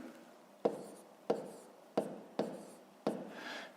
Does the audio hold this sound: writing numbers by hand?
yes